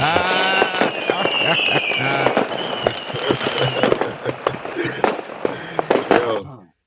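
Fourth of July fireworks and firecrackers, a rapid, loud barrage of crackling pops and bangs heard close by, with voices mixed in beneath, before it ends abruptly.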